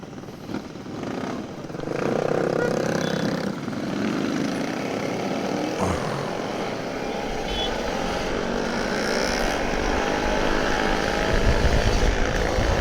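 A Kawasaki Ninja RR 150 motorcycle engine warming up in the morning idles and revs steadily, a rumbling drone that holds a fairly even level throughout.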